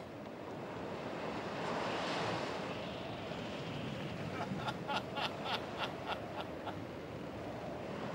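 Strong wind roars steadily over open sea, with waves surging and breaking in a continuous wash, loud and close, with no voices.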